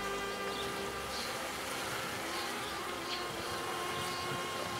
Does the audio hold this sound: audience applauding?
no